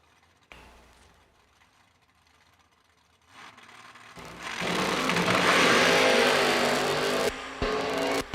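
A drag racing car launches hard with a wheel stand, a loud roaring engine surge rising abruptly after quieter mechanical clicks, heard from trackside and sustained for several seconds.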